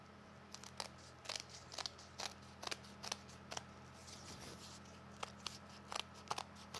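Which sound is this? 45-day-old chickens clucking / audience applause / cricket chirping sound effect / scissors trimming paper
scissors trimming paper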